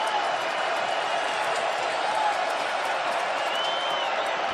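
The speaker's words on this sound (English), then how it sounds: "the crowd is now back into it" Stadium crowd at an NFL game cheering in a steady, broad roar, with a commentator's voice over it.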